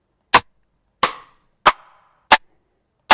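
Five sharp, dry rim shot drum samples played one at a time on an MPC 2000XL with short gaps, some with a brief ringing tail, close and loud.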